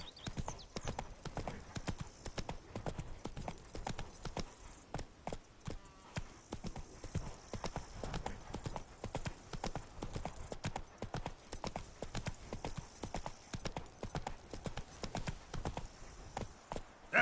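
In The Witcher 3, the horse Roach gallops with a quick, continuous clip-clop of hooves, fairly faint and even in rhythm throughout, with an occasional snort or whinny.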